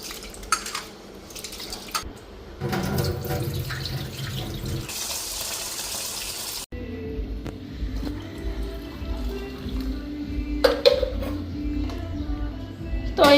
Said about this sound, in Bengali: আর এখন এদিকে চালটা ধুইয়া নিই, চালটা ধুইয়া ডিমটা বসাইয়া